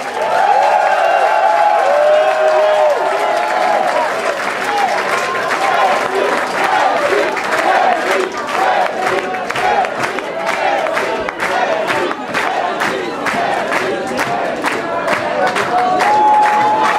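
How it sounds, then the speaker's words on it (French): A concert crowd applauds loudly for a soul singer, with dense sustained clapping, whoops and cheers. Voices and shouts rise over it throughout. "Tout le monde est applaudi très fort,"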